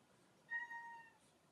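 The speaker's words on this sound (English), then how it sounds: "That cat just came down here and meowed behind me" A cat in a guitar-building workshop lets out one quiet, drawn-out meow of about a second, tonal and clear against a faint room background.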